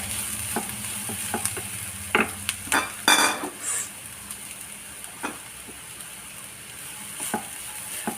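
Grated raw banana sautéing in oil for podimas, stirred with a few clear scrapes and clatters over a soft steady sizzle, close up, with no talking.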